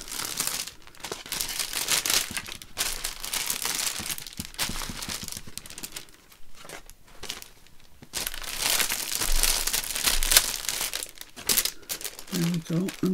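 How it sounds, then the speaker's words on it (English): Paper being crumpled and pressed to blot up wet ink on a black card folio journal page, producing close, irregular crinkling and rustling bursts that come and go across the whole stretch, with no voices. "Just mop this ink up."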